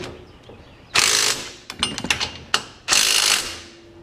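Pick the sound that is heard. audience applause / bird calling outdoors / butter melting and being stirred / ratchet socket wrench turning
ratchet socket wrench turning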